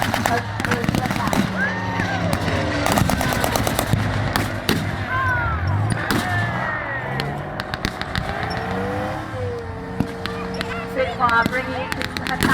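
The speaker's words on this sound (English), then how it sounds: "A half-track with a 50 cal machine gun on the top" A WW2 re-enactment battle with a .50 cal machine gun firing from a half-track, loud bursts and cracks mixed with engine rumble and other battlefield noise, while an announcer talks throughout.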